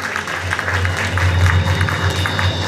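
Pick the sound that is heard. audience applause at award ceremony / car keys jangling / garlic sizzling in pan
audience applause at award ceremony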